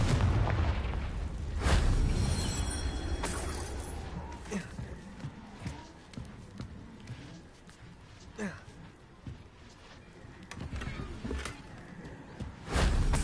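Confringo spell explosion in the Hogwarts Legacy video game, a heavy booming blast up front with several sharp bursts and thuds following, mixed with game sounds and moments of voice.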